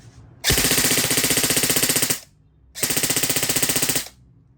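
An E&C HK416 airsoft rifle firing full auto, two loud close bursts of rapid mechanical clatter, each about one and a half to two seconds long, separated by a short pause.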